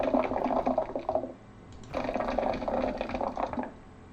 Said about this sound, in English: You could imagine that as like a bubbling sound.